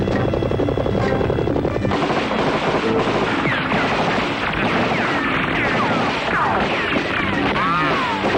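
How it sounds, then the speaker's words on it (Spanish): Loud, continuous rotor thrum of helicopters mixed with chaotic battle noise, bursts of gunfire and crashing impacts as troops fight guerrillas, in a dense, noisy scene. "¡Helicópteros!"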